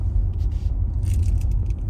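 Steady low road rumble and tyre roar inside a Genesis GV60 electric SUV on the move, a constant dense hum with faint rattly hiss on top and no voices.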